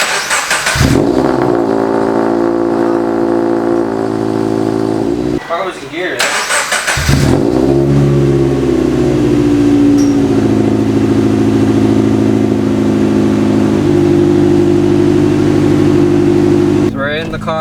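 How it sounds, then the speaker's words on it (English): A Subaru BRZ with equal length headers cold-starts, the boxer engine catching after cranking and settling into a loud, steady fast idle with a brief lull partway, while people talk nearby. "we're going to do a cold start, see what it sounds like with equal length headers this time"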